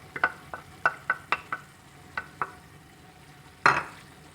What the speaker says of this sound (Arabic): غادي نحرك لاصوص بحال هكا باش تدخل ليا كل مع البصله والتوابل